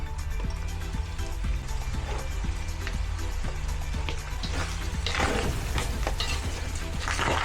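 Chopped onion sizzling and browning in a hot pan for a Filipino blood stew, a steady close crackle with repeated scraping stirs that grow busier and louder toward the end, no talking.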